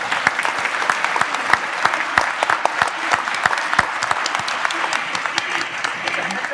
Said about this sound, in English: Now we can clap for all of them.